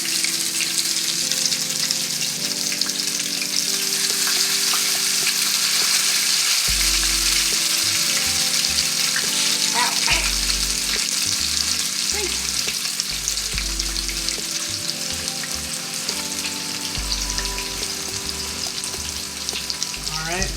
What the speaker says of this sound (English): I'm frying mine in olive oil